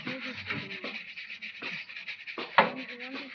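Scrubbing and rubbing on the body of an auto rickshaw during a wash with shampoo, a close rasping rub that comes in irregular strokes with brief pauses, plus a sharper scrape near the end.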